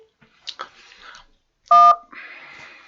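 Telephone call connecting on a live call-in show: a few soft clicks, then a short loud burst of dial tones and a brief buzzy connection tone, close and clear against near silence.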